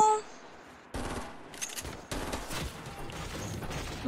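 Rapid bursts of automatic gunfire sound in the video game Fortnite, with several volleys of quick shots after a brief quiet start. The shots are fairly faint and carry no talking.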